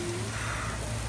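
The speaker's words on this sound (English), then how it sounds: "Oh my god. It's raining a lot." Heavy rain with falling hailstones pours down outdoors as a steady, dense, even hiss for the whole moment, with no voices over it.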